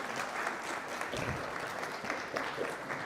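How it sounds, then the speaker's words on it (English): An audience at a motivational talk applauds a future Mayor of London, sustained dense clapping filling the room, steady and fairly loud without a break. "can you give a loud round of applause"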